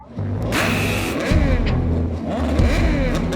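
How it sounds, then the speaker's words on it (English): Moto2 racing motorcycle engines revving on the launch control limiter at the start, a loud buzzing, wavering roar with rising and falling pitch, several bikes blending together. "Once the engine starts revving at like the launch control limiter"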